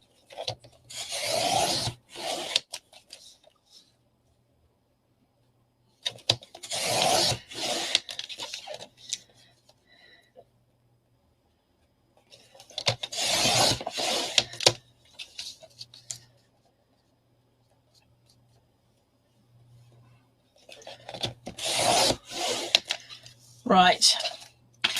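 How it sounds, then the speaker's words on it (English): Paper being cut into half-inch strips for a minibook craft, heard as four separate bursts of close, dry rasping cuts, each a couple of seconds long, with quiet gaps between them and no talking. "And now let's cut that into 1/2-inch strips."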